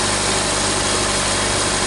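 A Nissan Versa's engine idles steadily at close range, a continuous low rumble and vibration with no other sounds.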